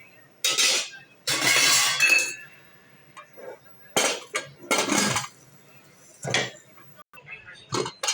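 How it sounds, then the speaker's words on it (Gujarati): A pressure cooker lid is shut over cracked-wheat lapsi cooking with a bowl of water, giving a few loud metallic clinks and clatters in separate bursts, close by, with short pauses between them. "હવે આને કુકરનું ઢાંકણું બંધ કરી દઈશું"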